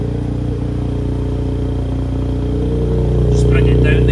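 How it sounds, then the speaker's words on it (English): A car's exhaust rumbles steadily at idle and close range, with a low droning note that swells slightly toward the end as the engine is revved; someone talks over it. "Let me show you this this exhaust."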